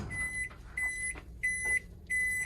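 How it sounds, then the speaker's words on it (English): A microwave oven heats agarose solution in a flask to make a DNA gel, giving a steady hum broken by a repeating tonal drone that cuts in and out in four regular bursts, close and moderately loud, with no talking. "About 1 minute and 30 seconds of microwaving"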